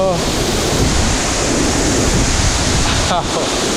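Roaring rush of water at the top of Le Kho waterfall, a steady loud wash that fills the whole clip, with a brief voice near the start and again near the end.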